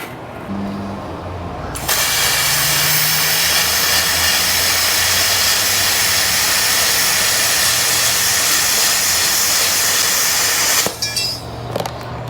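A VEVOR CUT50P plasma cutter slices through steel with a loud, continuous hissing roar that starts abruptly and runs for about nine seconds before cutting off sharply, heard up close with no talking.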